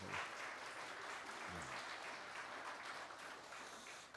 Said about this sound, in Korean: 우리 잠깐 일어서시면 격려의 박수 해드리도록 하겠습니다